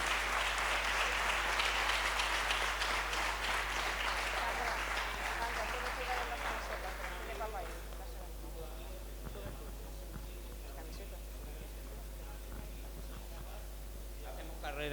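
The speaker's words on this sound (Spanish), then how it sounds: "un fortísimo aplauso a Vicente y a Jorge" A live audience at a talk at Campus Chozas 2025 gives a loud, sustained round of applause for Vicente and Jorge. The clapping is dense and continuous through the first half, then thins and fades under the room's background.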